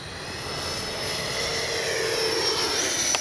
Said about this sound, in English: Man, what a good flying little jet.